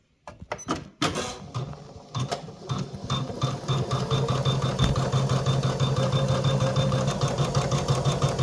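A Usha 550 sewing machine stitching cut work in a frame starts after a few clicks, then runs with a fast, even rattling hum that stays loud and close to the end.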